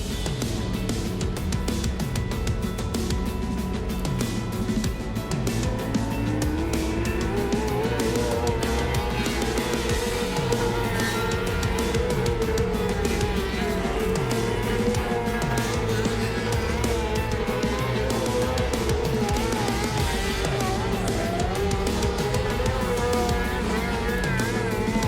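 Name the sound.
race car motor running at racetrack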